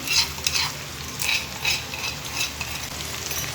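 Onion, green chili and ginger garlic paste sautéing in a pan for samosa filling, a continuous close sizzle broken by the rhythmic scrapes of stirring.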